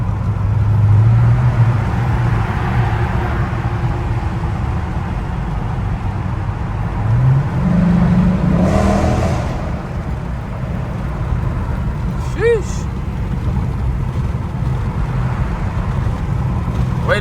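A Chrysler 300 SRT8 drives along, its engine a steady low rumble heard from inside the car, with road noise and a brief swell in revs partway through.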